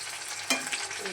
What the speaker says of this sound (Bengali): আমি লোহার কড়াই করে চিকেন ফ্রাইটা করে থাকি।